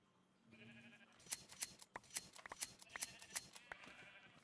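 Sheep on a wool farm in the video game Minecraft bleat in a quick run of short, overlapping calls with sharp clicky snips mixed in, fairly close and clear with no talking.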